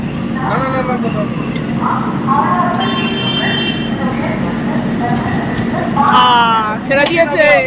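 The Howrah Pune Duronto Express pulls into a station platform with a continuous rumble and squealing rail noise, while people talk nearby and a brief buzzing tone sounds near the end.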